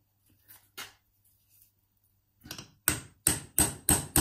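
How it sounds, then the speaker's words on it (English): Hammer taps pins out of a euro cylinder lock clamped in a vise: a few faint early knocks, then five loud, sharp metallic strikes in a steady rhythm, close up with no talk. "we're just going to tap these pins out"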